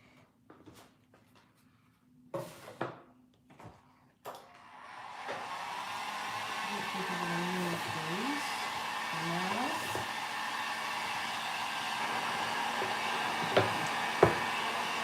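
A hair dryer blows to dry decoupage paint on Christmas decor, starting after a few knocks and taps, then a loud steady whooshing roar that holds for the rest of the clip with small shifts in pitch.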